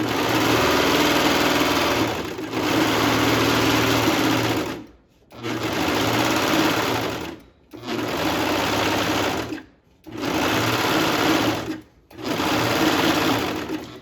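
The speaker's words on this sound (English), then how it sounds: "this is a curved edge that we're serging along" A serger sewing machine stitches along a curved pocket edge, running in five loud, steady high-speed bursts of about two seconds each, separated by brief pauses.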